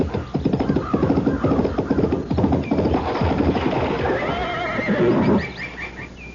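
Radio drama sound effect of a horse giving a loud, close, quavering whinny over pounding hooves, fading into a short snort at the end.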